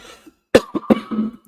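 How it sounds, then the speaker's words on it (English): A man coughs in a few sharp, close bursts, followed by a brief throat-clearing rumble, loud against an otherwise quiet room. "I have got a little cough"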